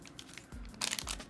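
A yellow paper envelope package is torn and opened by hand, giving a couple of short crinkling, ripping bursts, close and fairly quiet, with no voices.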